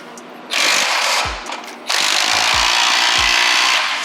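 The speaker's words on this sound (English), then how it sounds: "go ahead and tighten down your clamp" A power tool tightens an exhaust clamp while an AWE exhaust is fitted to a BMW G8X M3/M4. Two loud, close whirring bursts come in, the second one long and sustained, with faint knocks between them.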